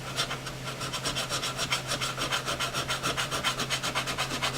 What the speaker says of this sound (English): I can really hear this file biting in.